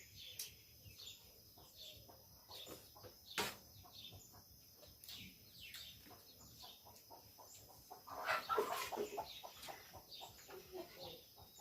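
Chickens, including a black hen, cluck and chatter in short bursts outdoors on a rice farm, some calls closer and louder, with a busier flurry of clucking near the end and no talking.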